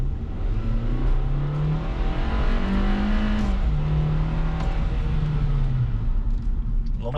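A 2021 Kia Rio's engine pulls the car uphill, a steady low drone rising and holding pitch as it accelerates, heard from inside the cabin with road rumble underneath.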